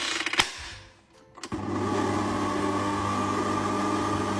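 A stand mixer fitted with a flat beater kneads maritozzi dough, a few sharp clunks giving way to a steady, loud mechanical hum with a low motor drone that runs on unbroken to the end.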